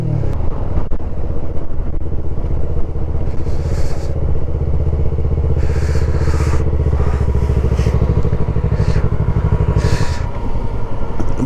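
Steady motorcycle engine drone with road rumble throughout, punctuated by passing traffic whooshes, loud and close, with no talking, riding the mountain road from Manali to Sarchu.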